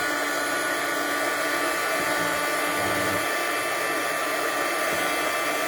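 An embossing heat tool blows steadily over a stamped card, a constant, close, airy whoosh with an even electric hum that holds without a break from start to finish.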